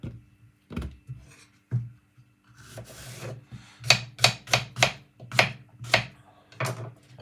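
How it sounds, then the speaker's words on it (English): A knife cuts green plantain into medium pieces for a Jamaican porridge, giving a run of sharp scraping, rasping strokes. A few are scattered early, then a quick rhythmic series follows close up over a low hum. "I'm going to cut it up into a medium size, that I can blend it."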